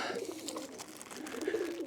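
Racing pigeons coo softly in a loft, their low throaty calls repeating under a busy background of rustling and flapping, fairly faint and with no talking.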